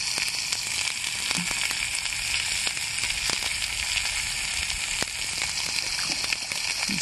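Rainbow trout sizzling in a pan over an outdoor campfire: a steady, dense frying crackle with scattered sharp pops, close and continuous for several seconds, with no voices.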